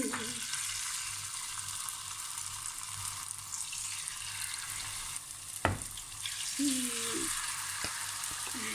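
Bamboo shoots fry in hot oil with a steady, dense sizzle that holds throughout, broken by a sharp clatter partway through and a few lighter knocks near the end.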